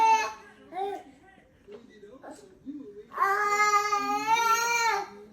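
A teething baby boy babbles and coos in short bursts, then breaks into a louder, sustained wailing cry. The sounds are close, with quiet gaps between the early vocal bursts.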